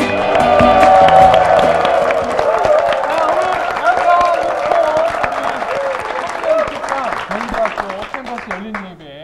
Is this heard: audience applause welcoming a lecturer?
yes